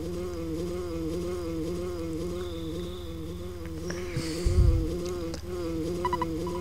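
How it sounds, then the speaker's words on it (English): A bee buzzes in the video game EarthBound, a continuous droning hum that wavers steadily over a low, looping game soundtrack, with a brief louder thump partway through. "But I think that sounds like a bee flying around."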